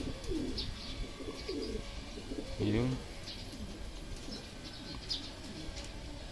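Racing pigeons arriving home from a 106 km training flight coo softly nearby over a steady outdoor hum, and a person says a short word partway through.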